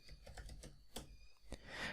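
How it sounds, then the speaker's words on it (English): Keys tap on a computer keyboard as a name is typed into a Node.js project setup, a quick irregular run of faint, close clicks. "I'm going to type my name"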